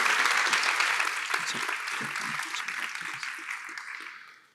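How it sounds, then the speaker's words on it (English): Audience applause at the 2024 Peter Farrell Cup finals night, a steady wash of clapping from a sizeable crowd in a hall that holds strong for several seconds before gradually fading out. "let's hear for Pickle."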